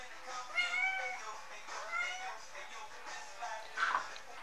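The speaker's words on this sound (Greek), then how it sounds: "Γάτα." A house cat meows repeatedly, four drawn-out calls at moderate volume, fairly close, in a quiet indoor room.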